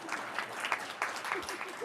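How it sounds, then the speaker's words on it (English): Applause from an audience at a school district board meeting as high school students are introduced, a dense, steady clatter of clapping across the room with a voice faintly mixed in. "if you can hold your applause till the end"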